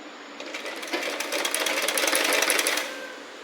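A sewing machine runs in one continuous burst as it stitches the neck of a frock, its rapid needle clatter rising and then stopping, close by, with no talk over it.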